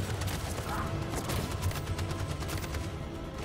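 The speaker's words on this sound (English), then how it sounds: "That machine gun has taken down everything that moves!" Dense, steady gunfire from a mounted machine gun in the Detroit: Become Human video game, a continuous crackling barrage that fills the whole stretch at a constant level, with no pauses between bursts.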